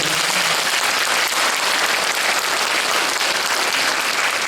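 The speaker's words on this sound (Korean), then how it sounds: "박수 한번 부탁드립니다." An audience at a school concert applauds together, a dense, even roar of clapping that stays loud and unbroken from start to finish.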